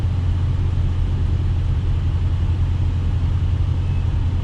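A 2021 Dodge Challenger R/T Scat Pack accelerating, a deep, steady engine rumble heard from inside the car, loud and continuous with no voices.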